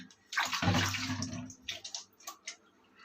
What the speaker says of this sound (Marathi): वजरी आपण पूर्णपणे उलटी करून धुवून धुवायचे स्वच्छ धुवून घ्यायचे